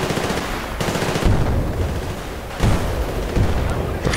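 Bursts of rapid gunfire and heavy booms from the video game Battlefield Bad Company 2, loud and close, with two sharp onsets and a dense rattling texture throughout.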